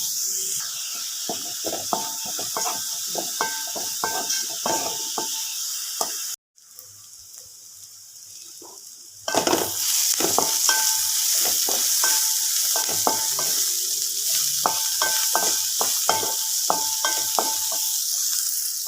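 Onions sauteing with salt in a pan, giving a steady close frying sizzle with repeated scraping and stirring strokes, broken by a brief quiet pause partway through, with no talking.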